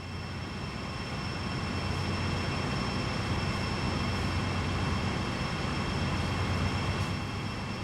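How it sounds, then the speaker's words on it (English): A GE AC4400CW diesel locomotive in Train Sim World 2 running at full throttle, a loud, continuous engine drone with a steady high whine over it, heard from the cab with no talk. "You are currently riding an AC 4400 CW locomotive."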